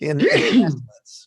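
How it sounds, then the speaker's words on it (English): A single loud sneeze close to the microphone, a sharp voiced burst with a breathy tail, after a few spoken words. "Gesundheit."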